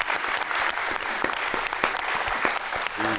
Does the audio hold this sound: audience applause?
yes